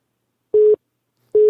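A busy signal sounds on a dropped phone line, two short steady beeps about a second apart, clear and alone.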